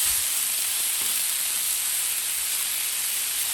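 Smoked sausage sizzles on a Blackstone griddle alongside vegetables, a loud, continuous, close-up hiss and crackle that holds evenly throughout with no talking.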